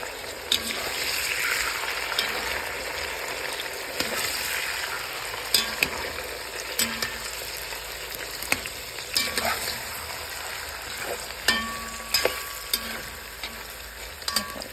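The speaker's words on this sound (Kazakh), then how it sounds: "Сәбіздерімізді салып, жақсылап қуырамыз бұнда." Carrots sizzle and fry steadily in a hot pan for plov, with intermittent clinks and scrapes of a utensil stirring; no talking.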